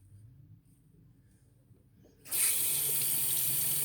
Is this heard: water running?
yes